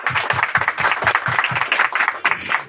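A church congregation clapping together in a quick, regular rhythm, many hands striking in steady beats, fairly close and lively, with a brief irregular burst toward the end.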